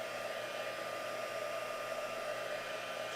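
Heat tool blowing steadily on wet paint in a papercraft project, a continuous close hiss-and-whoosh of hot air, loud and unbroken throughout with no talking.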